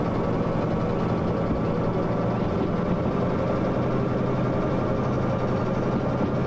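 Locomotive engine in the Derail Valley train simulator game, a steady, loud low rumble and idle-like drone running continuously without a break, with no talk over it.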